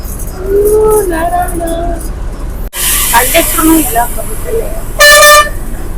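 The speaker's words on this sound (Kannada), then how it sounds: "ಇವ್ರು ಹಾರ್ನ್ ಹೊಡಿತಿದ್ದಾರೆ ಜಾಗ ಬಿಡ್ತಿಲ್ಲ ನಮ್ ಬಸ್ಸಿಗೆ" Vehicle horns honk at a bus over busy traffic noise, including a loud blast near the end, while people talk throughout.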